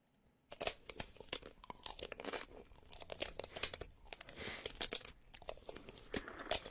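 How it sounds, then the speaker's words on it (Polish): A person biting into a computer keyboard: a close series of irregular crunches, crackles and tearing snaps of plastic, fairly quiet, with no talk. "Ty, on zjada klawiaturę"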